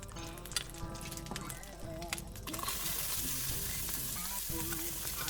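Pansit noodles being mixed and sautéed in a pan, with steady frying sizzle and scraping stir sounds; the sizzle thickens and grows louder partway through, close and continuous, with no talking.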